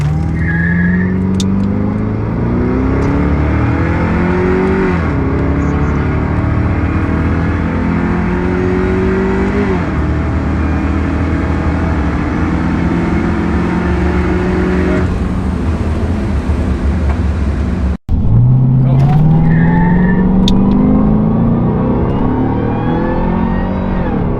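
A car fitted with a cam and full exhaust accelerating hard down a drag strip, loud engine roaring up through repeated gear changes with rising pitch sweeps, a brief cut near the end, then more revving.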